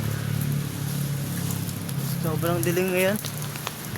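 Light rain patters steadily near the way home, a soft continuous wash, while a person speaks briefly over it partway through.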